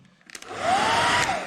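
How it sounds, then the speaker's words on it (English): A hair dryer blowing hot air onto the glue of a Velcro strip being fitted to a dust cover for an SG116 Max, starting up after a few short handling clicks and then running as a steady, loud whoosh with a faint whine. "use the hair dryer to heat it,"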